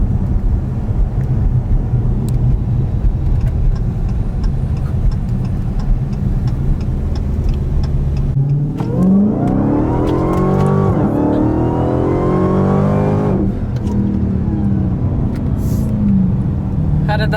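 A 2018 Dodge Demon on a test drive runs loud and close, then surges into a hard, rising acceleration with climbing engine pitch through the gears before easing off, with faint background chatter.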